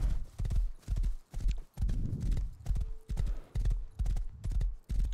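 Steady clip-clop of horse hooves trotting in the video game Rust, a quick, regular rhythm, close and fairly loud, with a brief whinny partway through.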